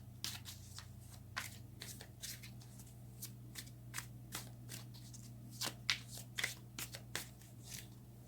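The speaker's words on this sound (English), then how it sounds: "Let's get one more card." Tarot cards are shuffled and drawn by hand in a quiet room, giving crisp, irregular flicks and riffles close by, over a low steady hum with no talking.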